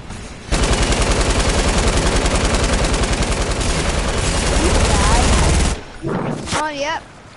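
A rapid, sustained burst of loud gunfire in Fortnite rattles for about five seconds, then stops abruptly, followed by a few softer clatters and a voice speaking.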